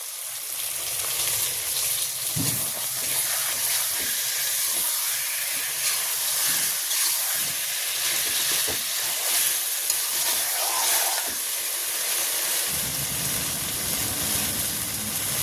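Tomato paste frying in spiced oil in a pan, a steady close hiss and sizzle running throughout, with a few faint clinks and no one speaking.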